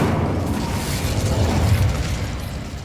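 The Incendio fire spell cast in the video game Hogwarts Legacy, a loud whooshing burst of flame that rumbles and crackles steadily across the moment without any voices.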